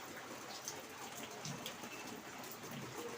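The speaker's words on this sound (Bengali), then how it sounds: "প্রচন্ড বৃষ্টি হচ্ছে, প্রচন্ড বৃষ্টি।" Heavy rain falls outside beside a kitchen, a steady, dense hiss of drops on surfaces with no pauses, moderately distant and unbroken.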